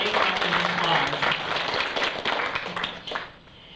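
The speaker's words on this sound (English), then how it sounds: "give them a nice round of applause" An audience gives a round of applause at a community history event, dense clapping that carries on steadily before thinning and fading near the end.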